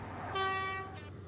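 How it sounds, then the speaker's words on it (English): A loud, steady two-tone HST train horn blast in the Trainz Simulator game, sounding once for about half a second, with a shorter, fainter second note and a low rumble of the train underneath. "I probably could have got him a better HST horn than that."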